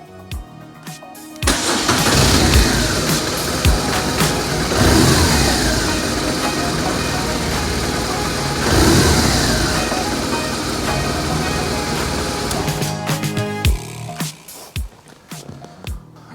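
A BMW R1200RT motorcycle runs after servicing, its engine rumbling loud and steady close by, with a few throttle swells and no talk.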